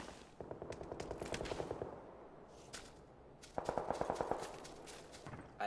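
Rapid bursts of automatic gunfire in the battle-royale game PUBG, two clusters of repeated shots with a lighter crackle between, moderately loud and without talk.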